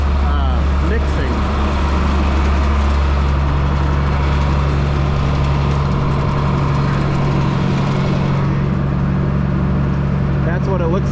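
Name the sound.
tractor PTO running feed mixer for dairy cows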